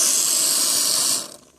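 A professional spray foam gun shoots a strong, loud, steady hiss of foam to seal a gap around flex ductwork, then cuts off sharply after about a second, leaving a faint tail.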